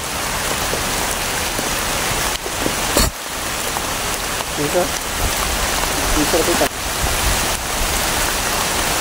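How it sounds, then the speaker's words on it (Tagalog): Heavy rain pours steadily on a mountainside during a survival outing, a loud, constant hiss filling the whole stretch, with a few short thumps and brief voices talking over it. "Malakas ang ulan."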